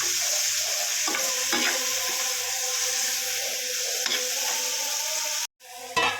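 Radish greens are stirred in a frying pan with a dense, bright sizzle and repeated scraping strokes from the spoon, loud and close, broken by a brief cut near the end, with no voices.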